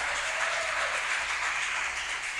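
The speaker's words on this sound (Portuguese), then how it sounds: "Quem pode glorificar o Senhor com a salva de palmas bem forte," A church congregation applauding loudly, a dense sustained wash of many hands clapping that fills the room evenly without any talk over it.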